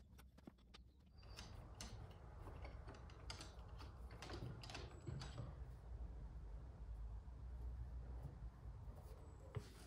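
An electric garage door on a garage workshop, run from a portable power station, opens with a steady low mechanical drone and a quick run of ratcheting clicks and ticks, close and fairly quiet.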